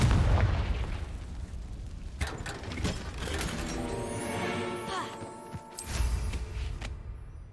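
A Confringo spell explodes in the Hogwarts Legacy video game: a heavy blast rumbles at the start, followed by sharp cracks and crashing impacts, then ringing, metallic-sounding debris and a second burst near the end.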